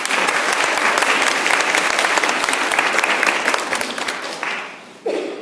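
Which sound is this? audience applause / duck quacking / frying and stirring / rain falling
audience applause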